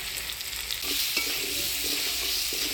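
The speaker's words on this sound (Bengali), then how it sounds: "হলুদ লবণ দিয়ে আলুটা বেশ ভাজা ভাজা করে নিলাম।" Cut potatoes fry in a pan of hot oil with turmeric, salt, dried red chilli and whole cumin, giving a steady close sizzle with a few soft stirring scrapes and no talking.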